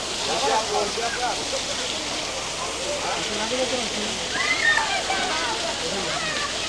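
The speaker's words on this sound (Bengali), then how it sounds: "এটা হচ্ছে হিমছড়ি ঝর্ণা।" Water pours steadily at Himchori waterfall in Cox's Bazar, where the flow runs down a drain-like channel, making a continuous broadband rush with people talking over it.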